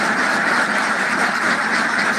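A flock of ducks at a hatchery quack repeatedly as they feed, a busy overlapping chatter that is fairly close and continuous, with no voices.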